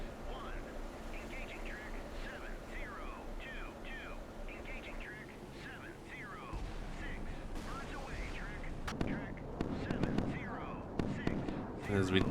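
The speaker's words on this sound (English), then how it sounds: "Flak fire coming out." Flak anti-aircraft fire booms from ships in the naval game Sea Power. The bursts sound distant at first and grow denser and louder toward the end, under a steady hum of game sound and chirpy tones.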